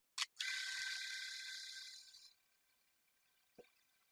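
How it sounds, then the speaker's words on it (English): An electric razor switches on with a brief buzz, then a muffled, suppressed hum that fades out under webcam noise cancellation, leaving near silence and a faint click at the end. "I have an electric razor on and you can barely even hear anything."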